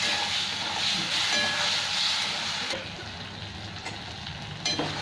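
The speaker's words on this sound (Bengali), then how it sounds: "এই মশলাটাকে এবার ভালো করে কষতে থাকবো আমি।" Masala paste with grated tomato frying in hot oil for Bengali maacher jhol, giving a steady, loud, close sizzle and hiss that softens partway through, with no talking.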